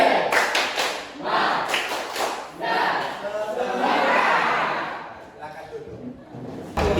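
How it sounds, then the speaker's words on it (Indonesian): A classroom of students doing a rhythmic clapping cheer as an ice-breaker, with sharp bursts of claps and shouting voices in a patterned sequence, lively and close, ending in a final loud clap. "tepuk semangat."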